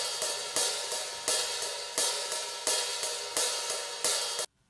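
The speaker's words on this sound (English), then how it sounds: "this is the sample from Superior Drummer 3" Hi-hat sample from Superior Drummer 3 in a drum mix, struck in an even repeating pattern of bright metallic hits, each decaying briefly, heard alone and close before cutting off.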